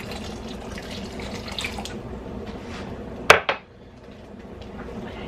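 Turkey broth poured into a pan of gravy gives a steady liquid splash and trickle, with a couple of sharp clinks from a pot or utensil near the end before it fades.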